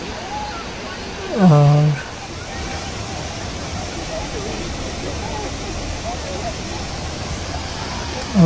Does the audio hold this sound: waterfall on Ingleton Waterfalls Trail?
yes